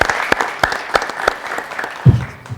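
Applause from a talent-show audience after a singer's alto saxophone solo: a loose run of individual claps in a roughly even rhythm, close and crisp, ending in a brief low thump.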